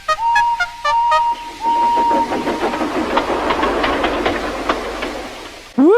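A steam tank engine in the Trainz railway simulator gives a few short whistle toots, then a long whistle, then settles into a rapid, rhythmic puffing of chuffs that builds steadily before a sudden cutoff.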